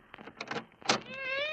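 A cat meows in an old radio drama, heard as a rising, drawn-out wail at the end after a few short rustling knocks and movement sounds close by.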